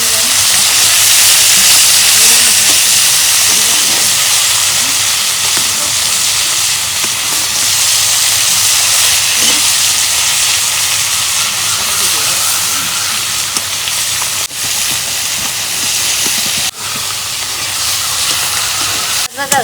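Pomfret fish sizzle loudly in a fully heated pan, a dense, unbroken hiss close up that barely changes from start to finish.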